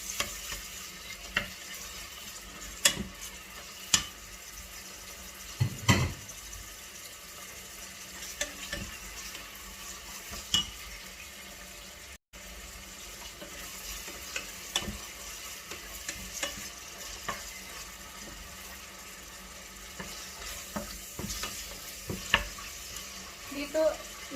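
Meat sizzles and fries steadily in a pan as it is added and stirred, with a continuous close frying hiss and occasional scraping stirs throughout.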